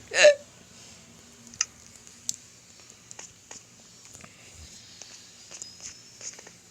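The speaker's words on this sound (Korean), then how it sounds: "아니 왜 스하다가 딸꾹질 하냐?" A single sharp hiccup right at the start, close and distinct, followed by quiet room noise with scattered soft clicks and taps.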